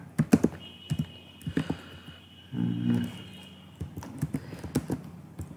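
A payload is typed on a computer keyboard during a buffer overflow exercise: close, irregular clusters of key clicks with short pauses and one brief denser rattle midway.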